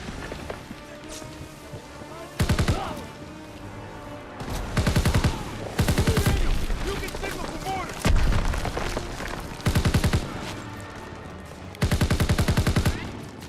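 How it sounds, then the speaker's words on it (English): A BAR machine gun in Call of Duty WW2 fires in repeated loud automatic bursts, each a second or so long, separated by quieter battlefield ambience and occasional distant shots, while a voice talks intermittently underneath. "I'm kind of glad I have this bar machine gun because it's doing a fair bit of damage here"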